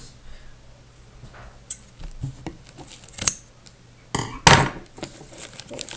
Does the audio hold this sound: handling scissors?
yes